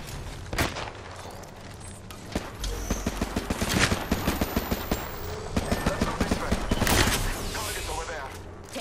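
Apex Legends battle with bursts of gunfire scattered through, some close sharp volleys of rapid shots and quieter distant ones, over busy game noise and effects.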